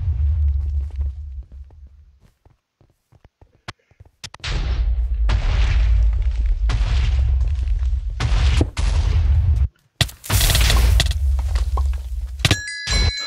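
Shotgun blasts on a Minecraft server game, starting with sparse clicks, then a string of loud, booming shots in close succession, a brief drop to silence near ten seconds, then more heavy blasts.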